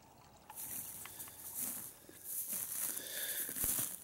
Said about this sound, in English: This creek comes down from a little swampy area up there.